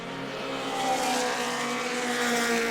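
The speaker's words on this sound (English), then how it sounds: "Car did not sound too healthy as it went past us here." A race car engine roars steadily past at close range on a racetrack's front straightaway, its note rough and uneven as if misfiring, with no voices.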